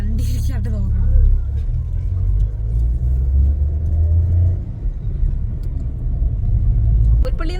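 A car is driven along the road toward Bathery in Wayanad, its engine and tyres making a heavy, steady low rumble from inside the cabin, with people talking over it at times.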